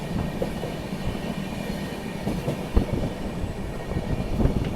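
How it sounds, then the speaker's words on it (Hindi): The 11040 Maharashtra Express rumbles into Tirora railway station, a steady low rolling roar with faint wheel clatter and occasional knocks, heard alone and fairly close. "यहाँ पर अभी अपनी महाराष्ट्र एक्सप्रेस पहुँच रही है अपने पहले हॉल्ट तिरोरा रेलवे स्टेशन पर।"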